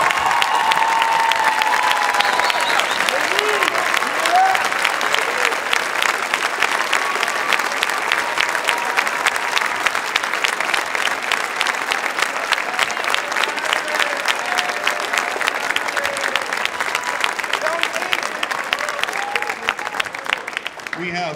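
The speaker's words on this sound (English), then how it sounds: "Big round of applause for our senior class." Audience applause for the senior class at a marching band's indoor end-of-season concert, a long sustained roar of clapping from a large crowd with some cheering and whistles, steady and full throughout.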